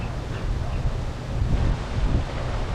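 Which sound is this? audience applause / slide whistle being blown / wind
wind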